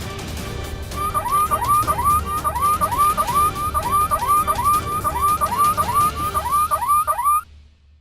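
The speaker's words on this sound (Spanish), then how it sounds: "volviendo a activar el mismo sonido de la alarma" A loud electronic alarm set off by a strange device wails in a rapid, repeating siren pattern over noisy background, cycling steadily for several seconds before cutting off abruptly.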